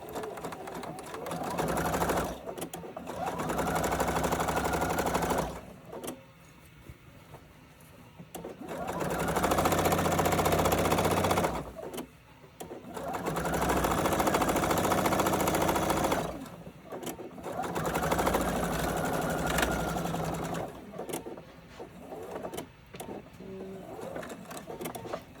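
A sewing machine stitches the seams of a drawstring backpack in four loud, steady bursts separated by short pauses, with occasional speech in the gaps.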